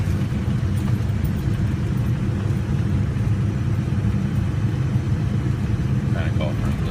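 A ten-year-old truck engine at low idle during fault diagnosis gives a steady, close low rumble with an even pulsing beat throughout, with no clear change in speed and no words spoken over it.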